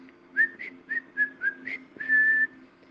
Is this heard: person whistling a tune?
yes